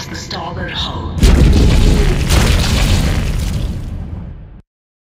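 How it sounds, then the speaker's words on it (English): Asteroid impacts on a starship hull in the game Dead Space: after a brief synthetic voice, a loud deep booming rumble hits and sustains for a few seconds before cutting off abruptly. "Multiple impacts detected across the starboard hull."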